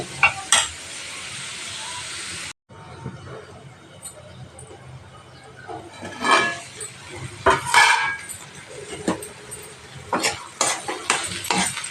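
Prawns and egg frying in a pan while being stirred, with a soft steady sizzle under repeated scraping and clinking strokes of a utensil against the pan, irregular and close, with faint voices at times.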